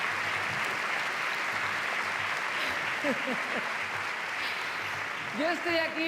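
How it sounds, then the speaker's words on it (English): An audience at a 2023 film festival opening gala gives a round of applause, a soft, steady wash of clapping at moderate distance, with brief voices cutting through near the end. "A round of applause for him"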